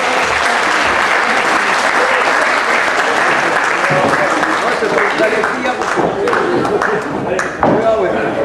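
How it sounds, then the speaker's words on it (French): A crowd at a volunteers' evening gathering of wine growers in Verzenay bursts into loud, sustained applause, dense clapping running throughout with occasional individual claps standing out and voices murmuring underneath. "On peut l'applaudir bien fort."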